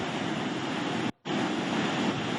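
Floodwater of the Phalguni river near Mangaluru rushing after heavy rain, a steady broadband roar with a brief dropout in the middle before the torrent resumes.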